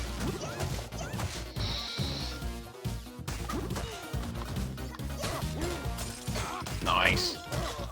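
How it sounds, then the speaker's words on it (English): Repeated smacks and crashes from a nightstick beating enemies in the Streets of Rage 4 co-op brawler, dense and loud over game music and effects. "just pick up a nightstick and beat them with it"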